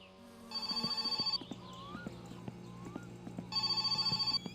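A landline phone rings inside a house in the Finnish car-building game My Summer Car, two electronic trilling bursts separated by a gap filled with quiet clicks and ambient noise.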